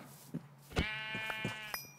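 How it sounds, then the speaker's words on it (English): A sheep in a blocky survival video game gives a few short, wavering bleats close by, preceded by soft thumps, with no talking over them. "I can see one. I'm coming for you, Mr. Sheep."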